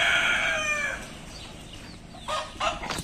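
Chickens crow and cluck close by as chicks are let out of the coop, with a loud bird call at the start and a few shorter calls near the end.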